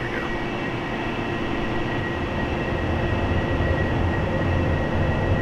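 Jet engine of an AV-8B Harrier in the DCS flight simulator spooling up with nozzles angled, a steady loud broadband roar with a faint whine that swells slightly toward the end, no voices.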